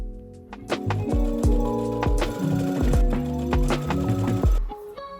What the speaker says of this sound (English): I will pin and sew the entire neckline, front and back, and the armholes